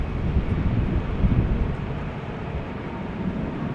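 A KLM airliner takes off from runway 18 Left at Amsterdam Schiphol Airport in wet, windy weather, a continuous low roaring rumble mixed with buffeting wind noise on the microphone, steady and fairly loud without voices.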